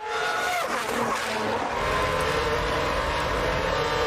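Formula 1 cars racing during the 2012 season as Sebastian Vettel tries to outbrake a McLaren around the outside, loud high-pitched engine whine with sweeping, shifting pitch as cars pass and brake.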